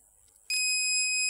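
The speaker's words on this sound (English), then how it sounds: "pop it out, plug it back in, 5 seconds, and we start beeping again" A hacked embedded device emits a steady high-pitched electronic beep that switches on abruptly partway through and holds continuously, loud and alone against a quiet background.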